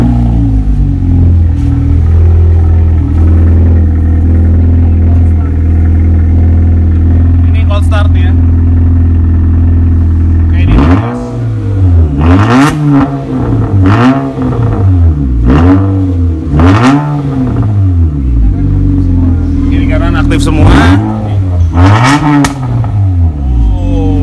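A modified Honda City street car with a 4-inch exhaust idles loudly nearby, then revs again and again in rising and falling bursts, with people talking over it.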